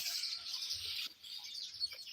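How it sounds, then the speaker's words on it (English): Small birds chirp faintly from an apple tree under a steady outdoor hiss, with a few brief, sharper calls near the end. "Now, the birds in this my apple tree"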